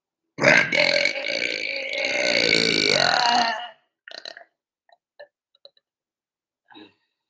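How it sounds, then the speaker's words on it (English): A person lets out one long, loud, drawn-out burp lasting about three seconds, followed by a few short quiet clicks and small mouth sounds against silence. "Maybe we'll burp that shit out."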